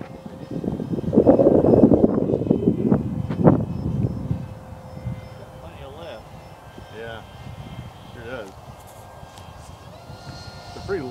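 A Hobbyking RC T-45 Goshawk 64mm EDF jet flies past outdoors with a rising, whooshing whine that swells, then fades into the distance, while people talk over it.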